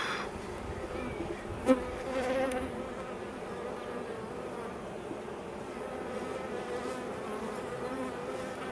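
Honeybees buzz steadily throughout a hive inspection after a hard winter, a dense continuous hum close by with one brief louder knock early on; nobody speaks.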